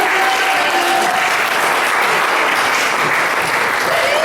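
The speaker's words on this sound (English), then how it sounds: "Another round of applause would be nice." An audience at a leadership academy session gives another round of applause, loud dense clapping that continues steadily throughout, close and unbroken.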